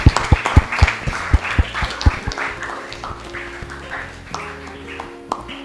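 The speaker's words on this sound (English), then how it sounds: "Give a big round of applause." An audience at an education talk at Kalvi International Public School claps a round of applause. A handful of sharp, close hand claps come in quick succession, then thin out into scattered claps over a low tonal hum.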